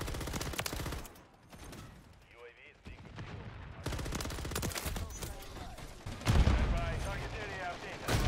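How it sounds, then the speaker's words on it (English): Rapid SMG gunfire in a Call of Duty multiplayer match, bursts of shots cutting in and out amid game sounds, with a player talking over parts of the action. "Pull out the SMG."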